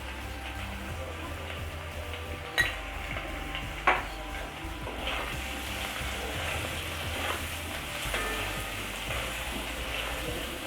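Potatoes with black pepper and salt frying in a pan, a soft continuous sizzle with occasional scrapes and two sharp clinks of the stirring utensil, close and moderately quiet.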